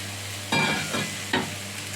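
Sliced eggplant drops into a hot pan of oil, giving a loud burst of sizzling followed by a couple more sizzling surges as pieces are added, with a faint steady hum underneath.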